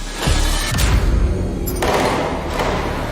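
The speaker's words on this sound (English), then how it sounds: "Do you hear that? Were those gunshots?" Several heavy booming shots, the first close together, then a pause and another lone crack echoing out, with no talk.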